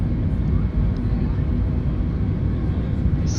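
An airliner taxiing in Microsoft Flight Simulator 2020, a steady, loud low engine rumble and hum that fills the whole stretch without breaking.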